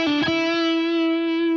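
A trebly, overdriven electric guitar for a solo, played without a wah-wah pedal: a sharp pick attack, then one long sustained distorted note ringing loud and alone before cutting off.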